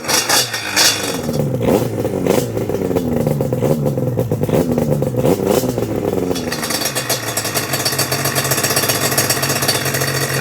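A two-stroke Yamaha Banshee engine runs loud and close just after starting, its revs rising and falling unevenly before it settles into a steadier, sputtering idle while still low on coolant.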